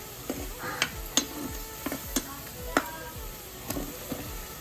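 Spices with salt and a little water are stirred and fried in a pan for a prawn and Malabar spinach seed dish, a steady sizzle broken by regular scraping stirs of a spoon.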